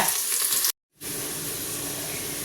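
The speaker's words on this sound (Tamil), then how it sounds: "இந்த வெங்காயத்து கூடயே ஒரு கருவேப்பிலை ஒரு கொப்பு கருவேப்பிலையும் போடுறேன் இது நல்லா பொன்னரமாக வர்ற வரைக்கும் வதங்கட்டுங்க" Chopped onion and curry leaves sauté in hot oil in a pan, giving a close, steady sizzle with a brief sharp dropout near the start before the frying hiss resumes at an even level.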